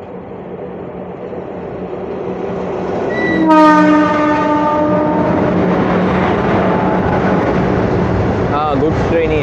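A goods train passing close by, a long sustained horn blast rising over the steady rumble and clatter of wagons, with another short horn later, heard from aboard a moving train amid some voices.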